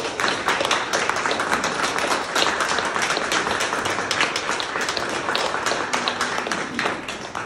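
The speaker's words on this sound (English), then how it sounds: "A round of applause, please." Sustained audience applause at the opening of an art exhibition, loud dense clapping filling the room evenly from start to finish with no speech.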